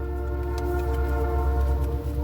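A train whistle blows as one long, sustained, steady tone over a low rumble. It is fairly loud and fills the whole stretch without pause, and no talking is heard.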